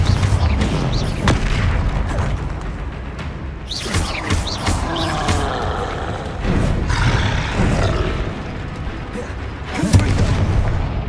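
Repeated Confringo blasting spell explosions in Hogwarts Legacy, a dense run of loud booming blasts and roaring bursts layered with continuous game-combat noise.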